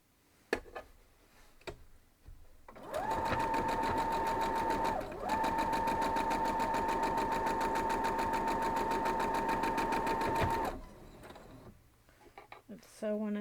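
A sewing machine stitches a quilt block in one sustained, steady whirring run of about eight seconds, with a brief dip partway through. A few isolated clicks come before and after the run.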